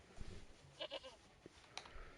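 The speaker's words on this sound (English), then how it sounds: "No way was I going near that old goat." A goat in the Broken Sword: Shadow of the Templars Reforged video game gives a couple of short, quavering bleats, faint against quiet game ambience with small clicks.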